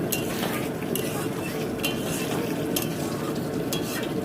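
Curry cooking in a small wok on a stove, with a steady close sizzle of frying and a continuous stirring scrape, plus a few sharp metallic clinks of the spoon against the pan.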